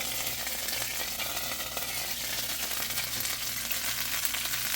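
Russian space food frying in a pan on a stove burner, giving a loud, dense, continuous sizzle with no pauses and no voices.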